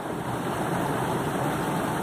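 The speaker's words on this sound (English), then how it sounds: "the water is coming so forcefully, so it rotating the wheels" Water gushes forcefully from a pipe onto the wheel of a water-powered flour mill, a dense, steady rushing roar that stays loud and constant.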